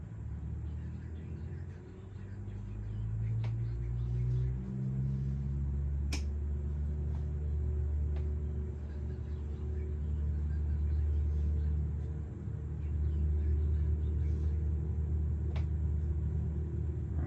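A home flight-simulator airplane makes its maiden takeoff roll, with a loud, steady, low engine rumble that builds and holds, plus occasional faint clicks.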